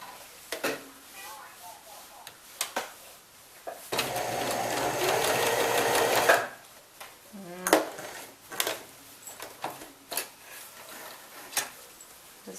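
A sewing machine stitching quilt block pieces runs in one continuous whirring burst of a few seconds, surrounded by quieter clicks, handling noises and a person talking.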